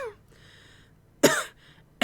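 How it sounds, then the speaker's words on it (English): A woman coughs harshly in a short burst, then a second brief cough follows after a pause. No one speaks. "That was real coughing, so thank you, Aranea."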